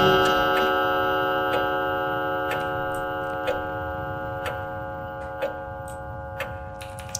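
Steady mechanical clock ticking from the horror video game The Lost Fear, regular evenly spaced ticks over a low droning ambient hum, fairly close, with no talking.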